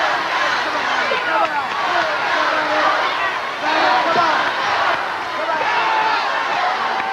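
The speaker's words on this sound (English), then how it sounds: "You see this capacity crowd on hand, trying to get the yellow dog back into it." A capacity crowd at a wrestling arena roars and chatters continuously, a dense, loud wash of cheering with swells, under a commentator's voice.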